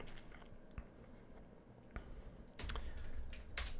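Keys clatter on a computer keyboard in scattered, light taps, then a quicker, louder burst of typing toward the end, with no voices.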